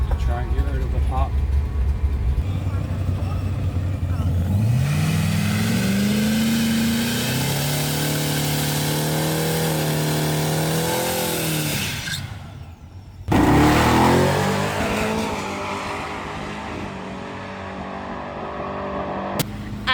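A Chevy truck with an LS engine on a drag run, revving hard and rising in pitch through the gears, close and loud, then cutting out briefly before surging again and fading.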